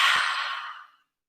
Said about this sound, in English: we're breathing in, we're breathing out, the same sound is heard